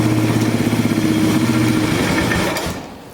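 A Polaris 325 Magnum ATV, revived after being trashed out and running hot, idles close by with a steady, loud, pulsing thrum, then cuts off abruptly near the end.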